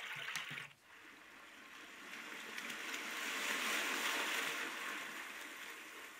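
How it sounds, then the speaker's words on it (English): Flowing water setting on an AVANTEK white noise machine, a steady hiss-like rush of streaming water that swells slightly in the middle, heard alone after a brief click at the start. "So finally, we do hear some flowing water."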